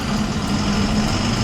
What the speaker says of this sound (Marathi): lorry, truck